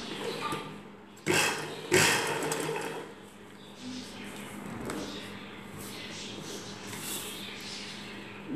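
A sewing machine stitches elastic onto a night dress in short bursts, the motor whirring up and easing off between runs, close and fairly quiet with a pause midway.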